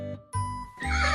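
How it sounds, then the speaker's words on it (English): A horse neighs in a short, loud whinny made of a few pulsing bursts with a shrill, rising tone, close and alone with no voices over it. "Our next friend is the magnificent horse."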